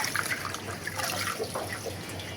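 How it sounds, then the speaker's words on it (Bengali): Leafy stem amaranth greens are rinsed by hand in water, giving close, continuous splashing and dripping with no talk. "তো ভালো করে শাকগুলো ধুয়ে দিলাম"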